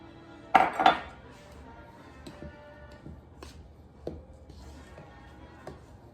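Two loud clinks of a utensil against a bowl open the moment as the rest of a gluten-free biscuit ingredient is dumped in, followed by a few softer, scattered taps and ticks in a quiet room.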